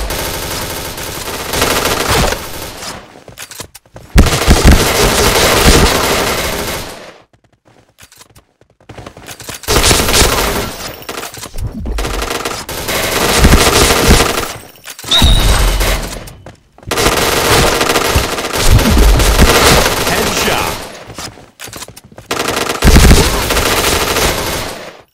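Loud bursts of T77 rifle fire in a mobile shooter, long rattling automatic strings separated by short silent gaps, close and dominant throughout.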